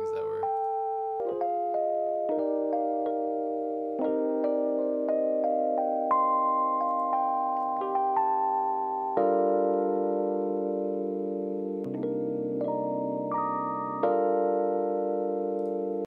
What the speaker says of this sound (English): And I'll jump around the sample a little bit so you can kind of hear the different things